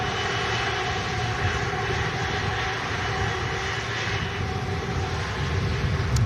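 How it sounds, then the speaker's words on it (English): An Air Tanker A330 airliner's jet engines roar steadily at an airport, a loud continuous broadband rush heard alone in windy, rainy weather. "Welcome back, Air Tanker A330"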